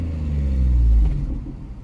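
A Renault Sandero GT Line 1.0 fitted with an exhaust diffuser accelerates. Its deep engine and exhaust rumble swells and then eases off over about two seconds, close by, with no voices.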